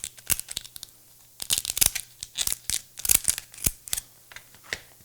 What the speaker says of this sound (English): Get a pair of scissors, go right down.